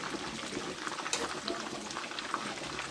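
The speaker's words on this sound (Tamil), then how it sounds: "நல்லா கொதிச்சிருக்கு. ஆனால் இன்னும் வேகலை ஃப்ரெண்ட்ஸ், இன்னும் வேகலை." Mutton biryani boiling in a pot, a soft continuous bubbling and gurgle at moderate level with small intermittent pops and no talk.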